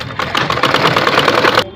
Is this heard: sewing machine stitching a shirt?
yes